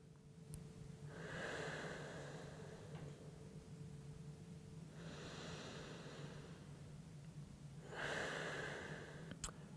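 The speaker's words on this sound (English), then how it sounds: "start breathing nice and slow in and out of the nose" Slow, deep breaths drawn in and out through the nose during a stretching session, three long airy swells spaced evenly and heard close and quiet.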